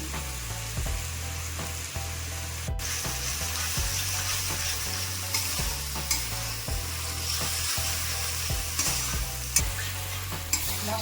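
A spice paste fries and is stirred with pumpkin in a pan, a steady close sizzle broken by regular scraping strokes of the spoon and occasional clinks, with no talk.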